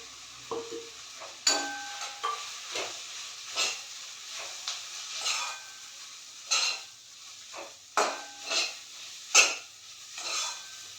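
Vegetables for pav bhaji sizzle softly in a pan with chilli powder and turmeric, punctuated by intermittent stirring scrapes and clinks of a spoon against the pan.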